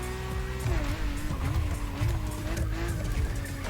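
A Lamborghini Murcielago drifting in a racing game, its engine droning with wavering pitch as the revs rise and dip, tires squealing steadily through the slide, loud and continuous.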